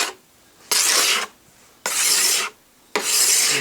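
Plastic scraper dragged along a snowboard base to remove wax, three loud, close rasping strokes each lasting about half a second, separated by quiet gaps, with no talking.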